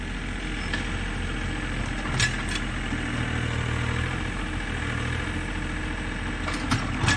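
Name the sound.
tractor engine running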